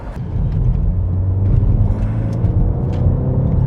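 A 2019 Ford Focus ST drives on a wet road with its front wheels slipping slightly, giving a steady, close engine and road rumble with no voices.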